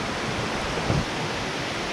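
Pouring rain at a house build site, a dense, steady hiss of heavy downpour filling the whole moment with no break or voices.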